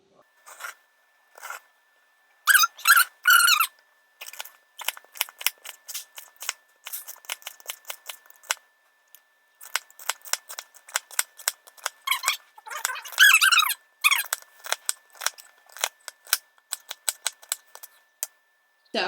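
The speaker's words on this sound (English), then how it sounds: "you're going to cut it right down the middle, and then you're going to kind of like dice it into like little pieces" A knife dices celery into little pieces for macaroni salad, giving crisp, close chopping strikes in quick, irregular bursts with short pauses between runs, and no one talking.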